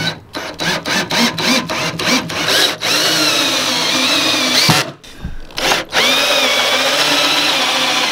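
A power drill fitted with a cheap drill bit whirs in repeated short bursts, then runs in a long steady loud whine with brief stops, close by during a DIY kicker box build.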